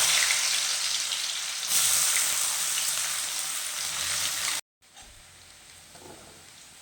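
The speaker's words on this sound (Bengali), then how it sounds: "এবার আমি গাজর আর বিনসটা দুটো ভেজে নেব। প্রথমে গাজর ভাজবে" Carrots fry in hot oil with a loud, steady broadband sizzle that drops out abruptly for a moment near the end, then returns at a lower level.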